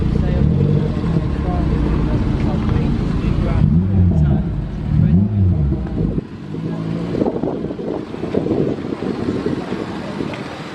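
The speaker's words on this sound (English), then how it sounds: "and the Vauxhall Viva HA behind." A classic Vauxhall Viva HA pulls away from a car meet at a heritage centre, its engine note rising and gear changes following over a steady low rumble, with wind buffeting the microphone and people talking nearby.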